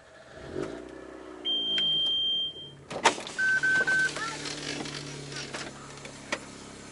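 Electronic beeps sound, then a Mazda MX-5 engine in iRacing cranks and catches with a sharp burst, settling into a low idle hum, interrupted by a few more chimes.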